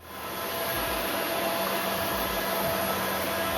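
A MOVA M10 wet vacuum cleaner runs loudly and steadily nearby in ultra mode, a constant whooshing motor roar with a faint high whine and no talking.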